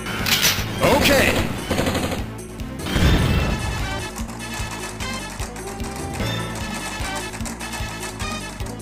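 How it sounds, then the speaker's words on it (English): Heavy machine gun fire in the arcade game Metal Slug 3, loud rapid bursts and crashes over busy game music, with announcer-style voices briefly heard. "Heavy machine gun."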